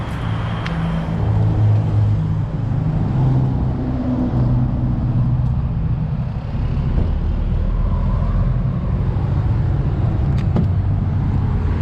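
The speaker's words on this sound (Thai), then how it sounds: "วันนี้เราจะพา ไป ทดลองขับตัว เรนเจอร์สตอมแท็กกันค่ะ" Ford Ranger Stormtrak pickup truck driving along, a steady low engine and road rumble holding evenly throughout with no talk over it.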